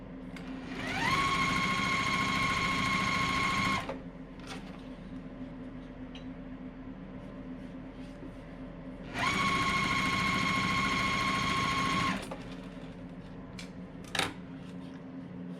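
A sewing machine stitches a gingham fabric square onto a solid rectangle for a quilt block, running in two steady motor-driven bursts of about three seconds each, separated by a quieter pause.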